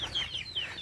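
Native country chickens clucking on a farm, a few bright, close calls rising and falling in quick succession over a steady outdoor background.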